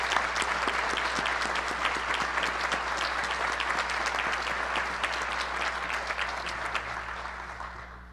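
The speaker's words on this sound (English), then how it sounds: "Graduates, I invite you to recognize all of them with a round of applause" A large crowd applauds steadily at the Colby-Sawyer College commencement ceremony for the Class of 2021, a dense wash of many hands clapping that runs throughout, then thins slightly toward the end.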